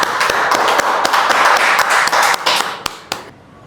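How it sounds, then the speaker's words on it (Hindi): Audience at a Munshi Premchand 146th birth anniversary celebration applauds to welcome a speaker: dense, steady clapping with distinct sharp claps standing out, loud throughout, then thinning and fading away over the last half second. "आप इनका पुरजोर तालियों से स्वागत करेंगे।"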